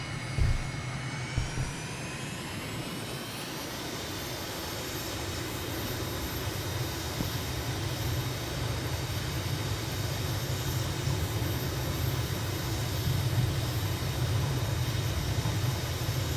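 An MB339 jet throttles up for takeoff on the runway in Microsoft Flight Simulator 2020, a loud, steady turbine roar with a rising whine that builds and strengthens as the aircraft accelerates, no voices.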